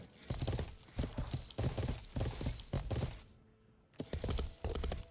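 Horse hooves clip-clop in the medieval video game Life is Feudal, a quick rhythmic run of sharp clattering steps in bursts, pausing for about half a second before resuming, fairly quiet and with no talk.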